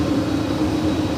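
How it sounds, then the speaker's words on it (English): A United Airlines Boeing 777-200ER heavy jet departing LAX for Newark produces a steady, loud engine roar with a low droning hum that holds evenly throughout, with no voices. "that was United Airlines flight 1082 heading to Newark in the 777-200ER"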